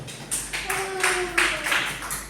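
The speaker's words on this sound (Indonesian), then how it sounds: "tepuk tangan untuk Mas Arjun" A classroom of students claps for a classmate, with a few scattered, soft bursts of applause beneath a faint tone and some background voices.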